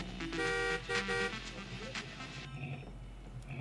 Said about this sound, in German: Wie kann ich hupen?